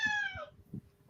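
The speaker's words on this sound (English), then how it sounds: "Meow." A domestic cat gives a single short, clear meow up close, followed after a quiet pause by the start of another.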